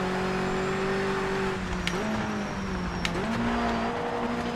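Race car engine in a racing video game holding steady high revs, with sustained harmonic whine that shifts pitch at gear changes, loud and continuous with brief sharp clicks.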